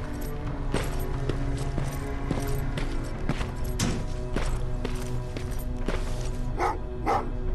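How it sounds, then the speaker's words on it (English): Dogs bark in Terminator Resistance, a series of short repeated barks at mid distance over a dense, continuous ambient game soundscape with no talk. "What's with the dogs?"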